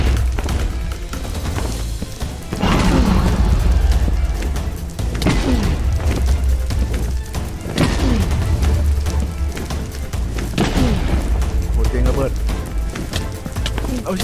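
Repeated booming explosions from beds blowing up in the Minecraft video game, several heavy bursts spread across the stretch over crackling debris, with a voice talking throughout.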